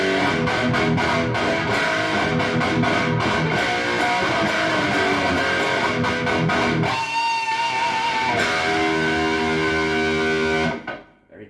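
Electric guitar played through an Engl tube preamp into a solid-state power amp gives a bright, trebly, distorted tone with sustained chords and riffs, loud and close, ending in a sudden cutoff.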